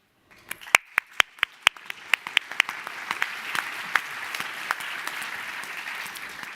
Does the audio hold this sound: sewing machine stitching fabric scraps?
no